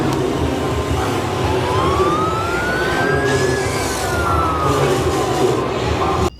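A toy police car's siren wails in a single rising and falling sweep over a loud, steady background rumble. It plays close and continuous across the short stretch.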